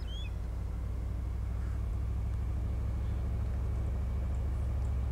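Steady low engine rumble of a car driving in the survival video game DayZ, a constant droning hum that runs the whole time with no talking over it.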